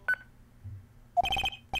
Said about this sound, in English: That's my cell phone